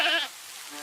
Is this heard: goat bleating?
yes